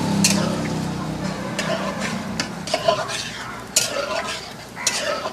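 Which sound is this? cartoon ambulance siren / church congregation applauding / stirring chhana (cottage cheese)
stirring chhana (cottage cheese)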